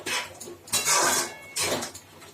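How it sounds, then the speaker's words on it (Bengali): A spoon or spatula scrapes and clinks against a cooking pot as egg tarka is stirred, in three short close bursts separated by brief pauses, with no talk. "এটা আমি ভালোভাবে নাড়িয়ে দিলাম"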